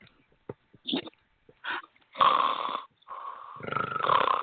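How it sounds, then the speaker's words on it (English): A person snoring in irregular bursts, several short snorts followed by longer rasping, nasal snores, fairly close and loud with silent gaps between. "That was me snoring."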